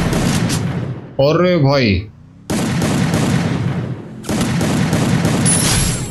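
Heavy bursts of gunfire from a Free Fire match, including an M1887 shotgun, loud and sustained in long blocks, broken by a brief tonal in-game sound and a short gap, with a voice speaking briefly.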